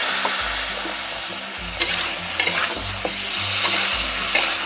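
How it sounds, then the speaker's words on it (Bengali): Masala spices fry in oil with a little water for a rui fish curry, a close, continuous sizzle broken by repeated scraping stir strokes, over a low steady hum. "মশলাটাকে আমি দু মিনিট ধরে ভালো করে কষিয়ে নিয়েছি"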